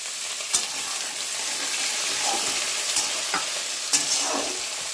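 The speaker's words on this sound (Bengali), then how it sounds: "পেঁয়াজ হালকা করে ভেজে এর মধ্যে কেটে রাখা আলুগুলো দিয়ে দিচ্ছি।" Cut potatoes with onion and green chillies sizzle steadily in a pan, with a few sharp clinks and scrapes of a stirring spoon over the continuous frying hiss.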